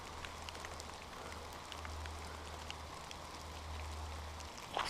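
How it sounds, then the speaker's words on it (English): Heavy rain falls in a steady, fairly quiet hiss with scattered drop patters and a low hum underneath, ending in a brief louder knock. "Some of the heaviest rain we've had all year."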